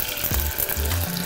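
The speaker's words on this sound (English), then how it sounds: "we've got some hot oil there, so let's go ahead and drop these in there" Wontons dropped into hot oil set off a steady, loud sizzle and crackle of frying that fills the whole moment, with brief lower bubbling bursts as they hit the oil.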